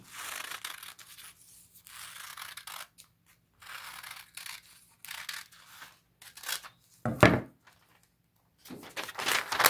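Bursts of close scissor snips cutting a fabric bag pattern, in short separated runs with pauses between, plus one sharper thump partway through, no voices.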